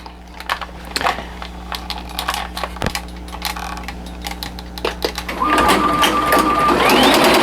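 An embroidery machine stitching a travel bag gives off rapid mechanical clicks and taps, then settles into a louder, steady whirring run near the end, close up with no talking.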